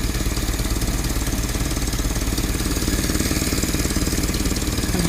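A Ford GPW jeep engine runs steadily with an exhaust leak, giving a loud, continuous rapid knocking and chuffing throb close by, with no talk.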